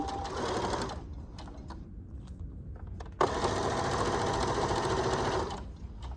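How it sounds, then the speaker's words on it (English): A sewing machine stitches a pinned quilt row for a square pillow, whirring steadily up close in two runs with a brief slower stretch between them. "I've already started out with a leader, and so I'm just gonna get started sewing this row that I've pinned."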